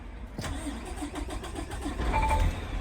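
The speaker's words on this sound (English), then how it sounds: "Now I'm going to start the truck." A 2024 Peterbilt truck engine cranks with a rapid, rhythmic starter chatter, then catches and rises into a louder running rumble close by, with no talking over it.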